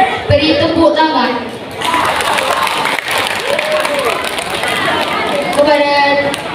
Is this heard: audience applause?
yes